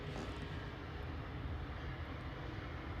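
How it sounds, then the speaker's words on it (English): Qatar Airways Boeing 787-9 Dreamliner taxiing out for departure at Manchester Airport, a steady low engine rumble and whine holding at an even, fairly loud level throughout with no voices. "So much so that the Qatar is now taxiing out for departure."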